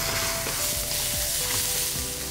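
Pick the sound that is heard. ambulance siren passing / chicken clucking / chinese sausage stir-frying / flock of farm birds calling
chinese sausage stir-frying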